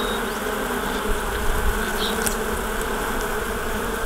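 Honey bees at a homestead beehive fill the air with a dense, loud, continuous buzzing drone close by, steady throughout with faint individual wingbeats flicking past and no talking.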